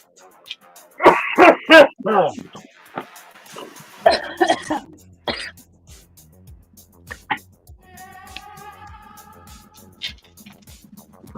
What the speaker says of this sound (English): I know I keep coughing too